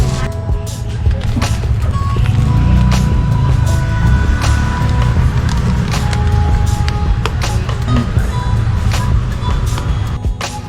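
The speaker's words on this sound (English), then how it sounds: "we've come to a quiet bench just out the way from the noise of the traffic" Street traffic in Hoi An, Vietnam, a steady loud rumble of passing motorbikes and vehicles with scattered horn beeps and clatter, continuous throughout with no talk.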